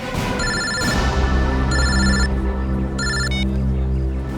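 A telephone ringtone chirps in three separate electronic bursts over a steady low background hum during a Hindi crime drama scene, with no voices.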